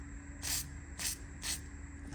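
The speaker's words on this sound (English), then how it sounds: "just need to spray these ball joint ones up." Penetrating spray is squirted onto a Golf MK3.5's ball joints in three short, close hissing bursts at a steady rhythm over a faint background hum.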